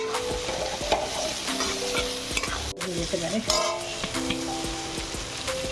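Mustard paste with green chilli and a little onion frying in a pan, a constant sizzle under repeated stirring scrapes and light metallic clinks of a spoon against the pan.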